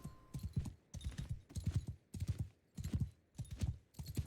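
A horse's hooves pound while it is ridden in Mount and Blade II: Bannerlord, giving a steady galloping rhythm of clustered hoofbeats that repeats about every half second, close and clear.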